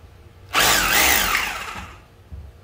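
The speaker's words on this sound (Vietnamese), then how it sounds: "Khoan bê tông 3 chức năng." A 3-function concrete hammer drill with reverse and speed control whirs up close for about a second and a half, a loud sudden start then winding down, with no voices.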